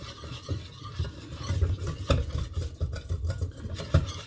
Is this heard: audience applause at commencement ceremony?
no